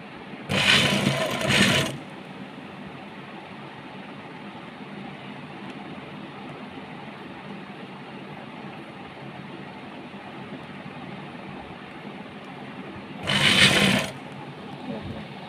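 A sewing machine stitching a ruffled top runs in two short bursts, one near the start and one near the end, separated by a long stretch of quiet room hum.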